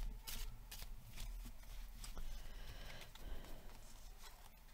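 Tarot cards being shuffled and laid out, a close series of crisp riffling flicks and soft slaps at irregular intervals, quiet and without talk.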